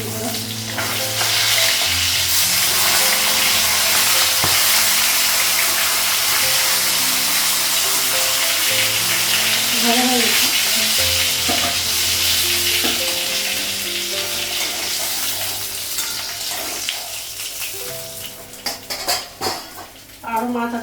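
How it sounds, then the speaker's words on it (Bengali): Fish fry in a pan for a Bengali home meal, a loud, steady sizzle of hot oil with clinking cutlery, utensil scrapes and stirring throughout, easing near the end as a few sharp knocks come through. "মাছটা এক সাইডে ভাজা হয়ে গেছিলো"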